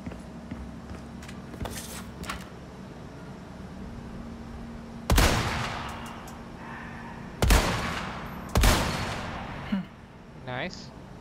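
Rifle shots in the video game Resident Evil 4, three sharp, loud cracks spaced a few seconds apart over a low ambient hum, with a fainter thud near the end.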